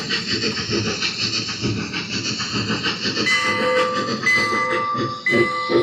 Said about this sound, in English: We're going to hear a train in the background.